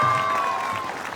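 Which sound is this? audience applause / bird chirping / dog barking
audience applause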